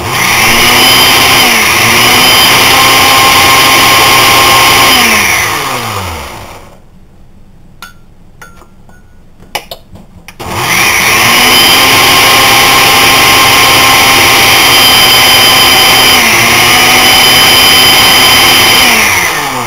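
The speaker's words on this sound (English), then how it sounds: "Hear the sound of the blender changing." A blender chopping fresh herbs such as basil roars loudly, cuts out for a few seconds of near silence with small clicks, then starts up again at full volume.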